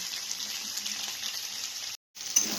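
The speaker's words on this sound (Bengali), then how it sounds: "এই মাছ ভাজা হচ্ছে" Fish frying in a pan gives off a steady, fairly quiet hiss of sizzling oil. It breaks off briefly near the end, then comes back.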